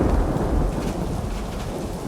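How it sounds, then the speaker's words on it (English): A loud, close crack of thunder with heavy rumbling in a stormy night scene, backed by a steady wash of rain, dense and continuous for the whole moment. "earth-shaking crack of thunder."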